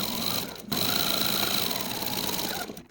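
A sewing machine runs across quilt fabric scraps with a close, steady buzzing hum, briefly dipping once near the start and cutting off at the end.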